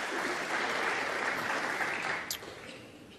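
A snooker audience at a 2018 quarter-final between Mark Williams and Kyren Wilson applauds after a pot, with steady, close clapping that fades over about three seconds.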